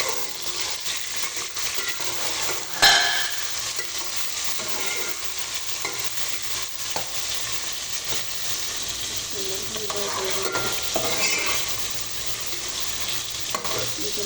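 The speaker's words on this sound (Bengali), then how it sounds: "পেঁয়াজ, রসুন, কাঁচামরিচ সব আমি একসাথে দিলাম, দিয়ে আমি সুন্দর করে বাজিয়ে নিলাম" Onion, garlic and green chili fry with spices in hot oil, giving a loud, steady sizzle with stirring scrapes throughout and one sharp clatter near the start.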